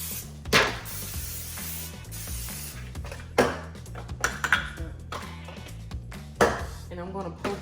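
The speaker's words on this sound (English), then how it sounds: "And I'm gonna spray the pan." Short hissing bursts of aerosol spray amid clattering pans and metal kitchen clinks, close by, with a steady low hum underneath.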